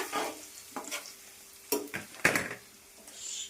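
Beetroot and carrot fry being stirred in a pan with fresh coriander, a few scraping strokes of a spoon against metal over a faint sizzle, close and intermittent with short pauses between them.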